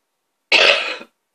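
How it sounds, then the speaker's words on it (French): A single harsh, close cough bursts out loudly from a person during an oil painting session on canvas, lasting about half a second, with the start of a second cough cut off at the end. "Moi, je tousse toujours autant."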